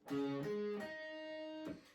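An electric guitar plays the chord shape from a song's riff, first finger on A4: a few quick plucked notes ringing into each other, then a sustained arpeggiated sound with a faint effects sheen, quiet and close.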